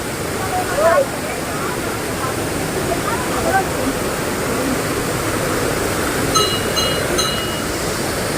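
Rushing waterfall beside a temple, a loud, steady broadband roar of falling water filling the whole stretch, with faint voices and brief tonal sounds briefly surfacing over it.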